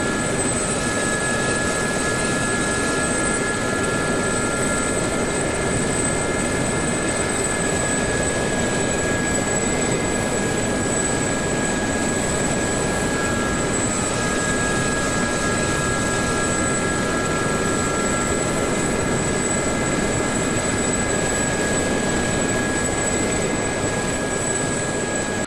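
A Gazelle helicopter in the flight simulator DCS World gives off a continuous loud rotor and turbine drone with steady high whining tones, unbroken for the whole stretch.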